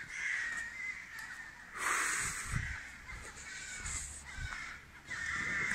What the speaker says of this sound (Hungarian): Csiripelnek a madarak.